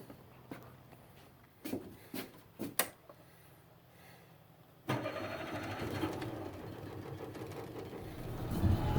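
A small boat's outboard-type engine on a homemade barge cranks with a few sharp pulls or clunks, then catches and settles into a steady running drone that grows louder toward the end.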